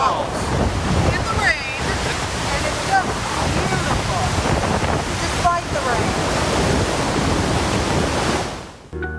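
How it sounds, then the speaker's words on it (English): Iguazu Falls roars in the rain, a broad continuous rush of falling water heard close while walking over the falls, with wind buffeting the microphone and a sudden drop near the end. "We're walking over Iguazu Falls. In the rain."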